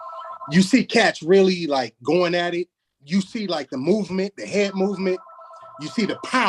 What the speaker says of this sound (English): excuse the phone in the background.